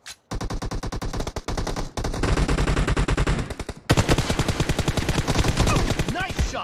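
Rapid automatic gunfire in the mobile battle royale game PUBG Mobile, sustained rattling bursts of shots at a steady fast rhythm, loud and close, pausing briefly between long strings.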